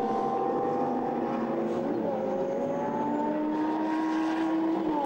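Lamborghini Super Trofeo race cars stream past on a drying Nürburgring track as several high, whining engine notes rise and fall and overlap, heard at a distance under steady broadcast-style background noise.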